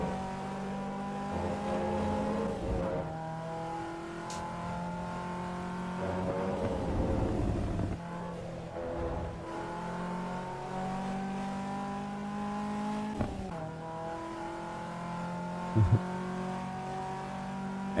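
A race car engine in Assetto Corsa EVO revs up and down through gear changes, rising and falling pitch with brief tire squeal, steady and fairly close throughout.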